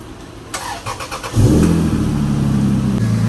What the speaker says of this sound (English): now we just gotta turn it on and see if everything works.